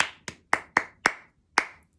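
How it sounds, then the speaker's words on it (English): Hands clap out a rhythm in a music theory lesson: six crisp, close claps in an uneven pattern with short gaps, alone without talking. "I'm going to clap a rhythm and you're going to respond"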